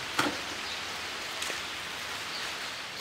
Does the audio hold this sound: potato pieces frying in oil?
no